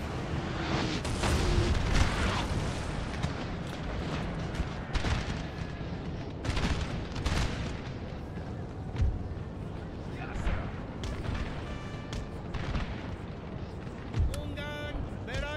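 Musket volleys and artillery fire in Napoleon Total War, a dense, continuous barrage of booms and crackling gunshots, loud and near throughout, with occasional heavier blasts standing out.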